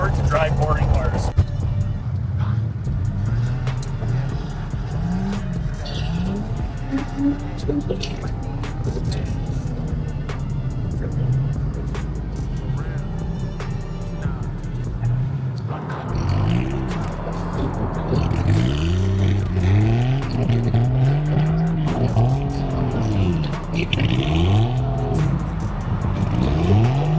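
A Toyota Supra built as a Fast & Furious tribute car drifts on ice, its engine revving and rising and falling in repeated swells while people talk over it.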